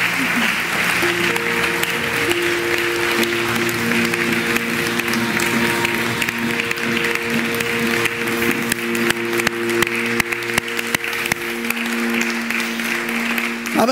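A church congregation at an anniversary service applauds God, loud continuous clapping over sustained keyboard or organ chords, with some voices mixed into the crowd noise, carrying on steadily for many seconds.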